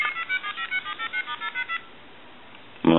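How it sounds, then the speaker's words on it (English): An AT&T Speakerphone 5500 cordless telephone redials a stored number, sending a quick run of about a dozen rhythmic dialing tones over a faint hiss, followed by a short burst of louder sound at the end. "Hit redial."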